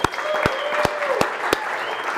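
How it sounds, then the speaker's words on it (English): Audience applause at a company all-team meeting: a scattering of claps with a few sharp, distinct hand claps standing out, moderately loud, with faint voices mixed in. "Give them a round of applause, guys."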